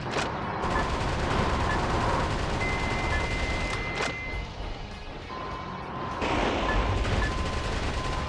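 Continuous rapid gunfire shooting down enemies in Metal Wolf Chaos rattles on for several seconds, dense and steady with a brief lull midway before the barrage picks back up.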